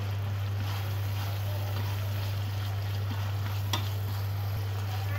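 Freshwater shrimp dry-fry in oil in a pan, giving a steady, continuous sizzle with a low constant hum underneath and no talking.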